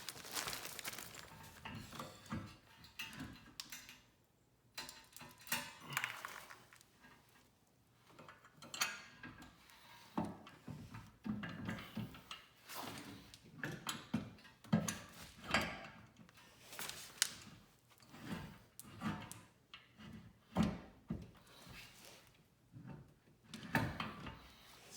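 Mopar running boards go onto a 2021 RAM 1500 Rebel truck as a string of quiet metallic clicks, rattles and clunks sounds close by, irregular and intermittent, with no talking.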